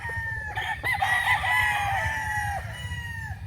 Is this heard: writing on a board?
no